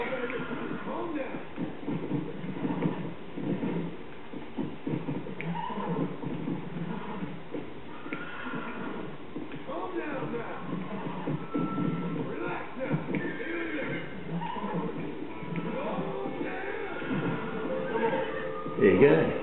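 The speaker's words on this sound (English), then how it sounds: "Wild horse." A wild horse in the Red Dead Redemption video game neighs and whinnies repeatedly, mixed with hoof shuffling, while a person talks over the game sound.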